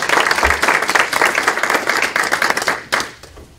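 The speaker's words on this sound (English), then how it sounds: "Let's show our appreciation for their years of dedicated service with a round of applause." An audience breaks into dense, loud applause, many hands clapping together in a sustained burst that stays strong throughout and tapers slightly near the end.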